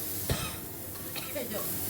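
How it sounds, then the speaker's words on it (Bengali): Water lily stems and green chillies frying in a pan on a home stove, a soft steady sizzle with a few stirring scrapes and clicks close by. "এই শাপলাগুলো এর মধ্যে দেবো দেবো সাথে কটা কাঁচা লঙ্কা এবার একটু এটাকে ভাজা ভাজা হবে"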